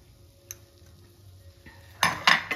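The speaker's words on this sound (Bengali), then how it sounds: "এখন আমি এটাকে ভালো করে নাড়াচাড়া করে নেব আরো 4-5 মিনিটের মতো কন্টিনিউস" Carrot halwa stirred in a pan with sugar and cardamom, mostly quiet at first with a faint tap, then a burst of loud metal spoon scraping and clanking against the pan near the end.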